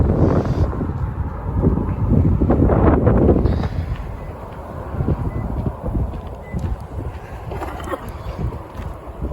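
Wind buffets the microphone in heavy, rumbling gusts that rise and fall unevenly throughout, near a bridge over a bay.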